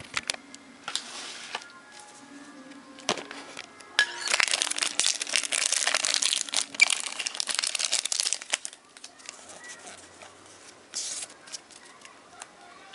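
A Pokémon Platinum Arceus booster pack wrapper is torn open and crumpled close up, a loud crinkling rustle of foil that swells for several seconds in the middle, with a person talking quietly around it.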